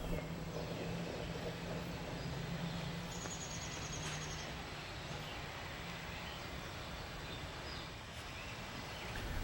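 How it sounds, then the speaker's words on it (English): An Amtrak electric passenger train on the Keystone Line runs with a steady, distant rumble, with faint birdsong over the top. "This Amtrak passenger train travels between New York City and Harrisburg, Pennsylvania."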